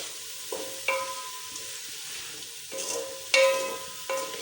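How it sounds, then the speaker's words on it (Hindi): Cluster beans roast in oil in a pan, with a quiet sizzle beneath several distinct clanks and scrapes of a metal spoon against the pan, spaced irregularly. "हमें इसको तकरीबन 10 मिनट तक ऑयल में इस तरह से भुनाई करनी होती है"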